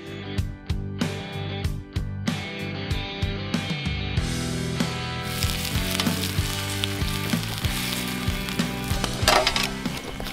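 Steak, spuds and corn sizzle and crackle over a campfire, a steady frying hiss with intermittent pops and wood crackles, close and continuous.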